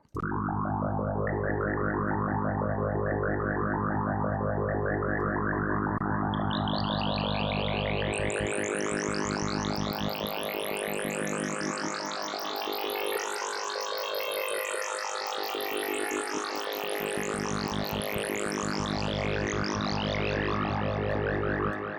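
A sustained, buzzy psytrance preset tone from the Vital software synth with shifting harmonics that sweep upward, giving a bubbly, warbling texture; loud and continuous, with no voices.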